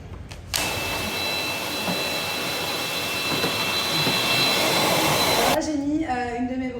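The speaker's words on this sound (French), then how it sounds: "Alors là, j'aspire le sol. Du coup, j'ai pris l'embout spécial." A vacuum cleaner with a special floor nozzle switches on and runs with a steady loud whine and rushing airflow across the floor for several seconds, then cuts off as it winds down.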